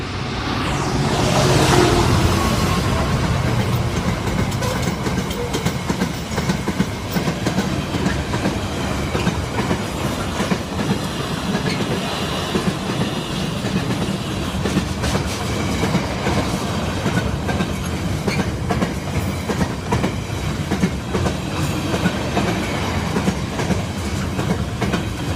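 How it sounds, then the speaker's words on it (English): A Class 66 freight train passes the Stowmarket station level crossing in Suffolk with a loud, sustained diesel rumble and rhythmic clickety-clack of wagons over the rails that continues steadily throughout. "Freight 66. We've got 66, 760."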